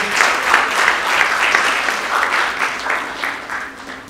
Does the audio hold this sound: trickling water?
no